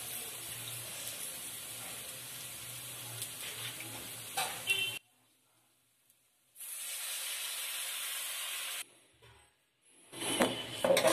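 Tamarind pulp poured into a hot pan of puliyogare gojju, bursts of loud hissing sizzle broken by silent gaps, with no talking.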